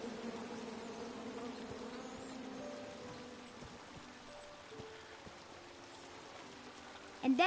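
Angry bees buzz steadily in the King's Quest video game, a continuous droning hum that stays fairly even and moderately loud across the whole stretch, with a brief louder burst at the very end.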